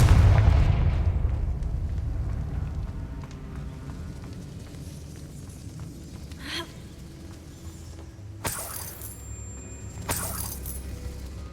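A Confringo fire spell detonates in Hogwarts Legacy, a heavy booming blast up front that rumbles and fades, followed later by a few sharp crackling impacts.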